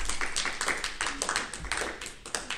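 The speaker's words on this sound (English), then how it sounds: "give them a big round of applause" A small group claps briefly at a congressional event on a Diwali federal holiday bill, distinct close hand claps in a loose rhythm with no talking.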